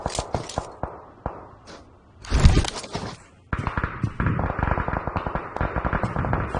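Gunfire in a BGMI esports championship match, with sharp cracks and bursts of shots, a loud blast near the middle, then dense rapid firing continuing close and steady.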